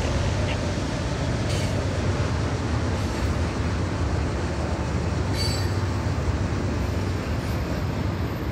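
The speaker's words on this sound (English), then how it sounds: "We got another train coming" A CSX freight train with DPU runs through a sharp curve, a loud steady rumble of wheels on rail throughout, broken by a few brief high wheel squeals.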